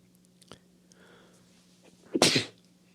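A single sharp sneeze bursts out close to the microphone after a faint click, in an otherwise quiet room.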